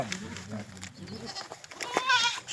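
A goat bleats at a village goat market in Sukhna Ablu, giving a short, wavering cry near the end amid nearby chatter and background crowd noise.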